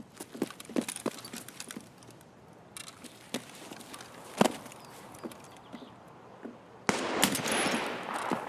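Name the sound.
gunfire in the video game Escape from Tarkov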